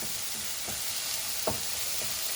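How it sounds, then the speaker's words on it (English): Turnip and mixed vegetables sizzle in a hot pan while being stirred, a constant frying hiss with a few soft scraping knocks from the spoon. "Now we give this a stir."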